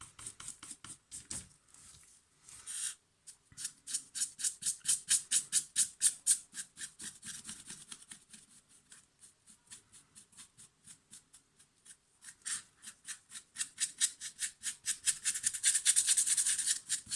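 A dry brush scrubbing paint across raised details of a miniature, heard as a fast run of short, rhythmic bristle scratches, close and fairly loud, with a few brief pauses and no talking.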